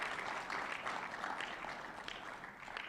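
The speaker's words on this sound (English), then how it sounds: "You must clap for that." An audience at a presidential press conference claps, a moderate, fairly faint burst of applause held steady for a few seconds.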